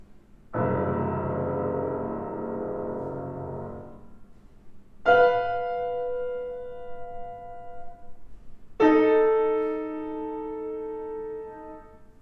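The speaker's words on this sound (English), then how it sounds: "A tritone sounds like this." Three separate tonal sounds, a tritone interval played once as a sustained chord and then as two single notes in turn, each ringing out plainly with no speech.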